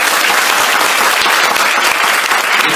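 A large crowd at a company event in a Taipei hotel breaks into loud, warm applause, a dense, continuous wash of many hands clapping close by throughout.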